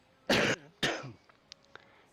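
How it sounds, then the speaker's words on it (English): One person gives two sharp, close coughs in quick succession, followed by a few faint clicks in an otherwise quiet setting. "Because I coughed."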